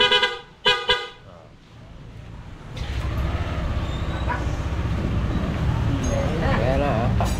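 Two short, loud blasts of a Yamaha Aerox 155 scooter horn near the start, followed by a steady engine rumble and traffic-like noise.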